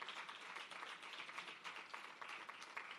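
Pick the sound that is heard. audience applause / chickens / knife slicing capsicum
audience applause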